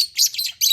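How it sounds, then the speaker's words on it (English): Pet birds in a cage chirp in quick, bright tweets, with two short clusters of high calls close by and no voices. "These are the birds."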